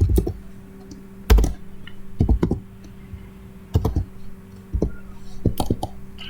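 Code is typed on a computer keyboard in short irregular bursts of crisp key clicks, close and clear, with quiet pauses between bursts.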